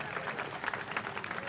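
Audience applause at a talk event, a steady wash of clapping from a crowd heard at moderate distance with a voice speaking over it.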